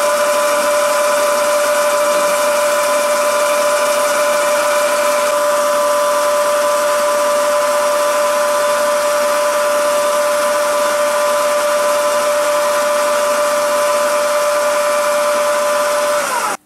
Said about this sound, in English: I will now drill and thread this part with the M4 thread.